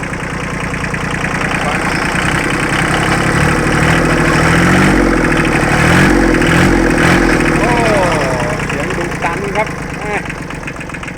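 A Kubota tractor engine idles and chugs steadily nearby with a rough, knocking rhythm, while someone talks over it throughout.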